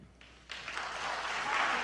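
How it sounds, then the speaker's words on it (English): The audience at a presidential debate bursts into applause after a quiet moment, a crowd of clapping that swells quickly and stays loud and sustained. "Can we please hold the applause?"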